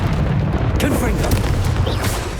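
Fiery spell blast from the Confringo incantation in Hogwarts Legacy, a loud continuous rumbling boom with crackling bursts layered over dense low-end noise throughout.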